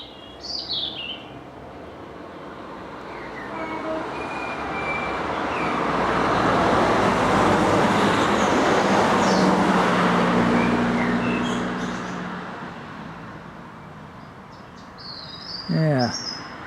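A train passes through the countryside on a walk near Eynsford, its broad rushing roar swelling over several seconds and then fading, while birds keep chirping and whistling in the background.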